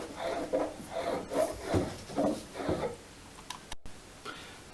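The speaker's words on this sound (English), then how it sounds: "The rest of the overlap between the planks needs to be beveled off where necessary, just to make a good tight joint between the planks where they meet" A hand tool bevels the overlap between wooden planks on a cruising dinghy hull, making close, rhythmic rasping strokes, about six in a row, followed by quieter scattered ticks and knocks.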